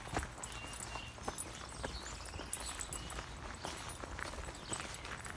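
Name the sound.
horses walking, hooves clip-clopping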